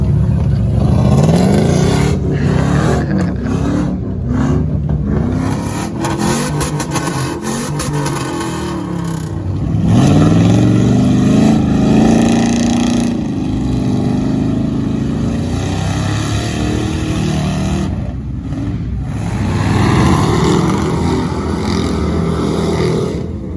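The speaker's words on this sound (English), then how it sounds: "We got that front-wheel drive truck out here again." Loud, close engine of a front-wheel drive pickup truck roaring and revving continuously, pitch climbing and falling through several long pulls with short breaks between, no voices.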